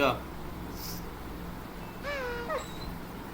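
A cat meows in the puzzle adventure video game Lost in Play: two short, rising meows close together in the latter part, heard over a quiet background hum.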